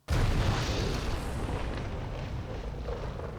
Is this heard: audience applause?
no